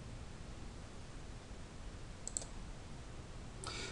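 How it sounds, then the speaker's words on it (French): A single soft mouse click opens a PDF hyperlink on a computer, a brief faint tick in an otherwise quiet room hiss. "Dès qu'on clique ici, on va ouvrir le PDF."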